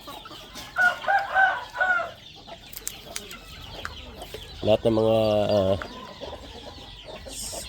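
Farmyard chickens cluck and call nearby in two distinct bursts, the second longer and more strained, while a person speaks briefly between them.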